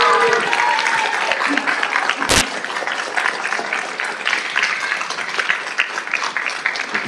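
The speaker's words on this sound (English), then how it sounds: "Give him a round of applause." City council meeting audience applauding the Citizen of the Month, sustained dense clapping throughout with a sharp bang partway through.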